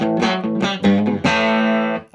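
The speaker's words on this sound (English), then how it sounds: "So we'll just give it a blast full on the guitar." A 1970s Fender Stratocaster with EMG David Gilmour pickups strums a few chords with reverb off, loud and ringing with a bright, fairly clean tone, the last chord sustaining before cutting off.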